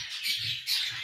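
A goldfinch gives two quick, thin, high chirps in succession, fairly faint and close, with nothing else audible.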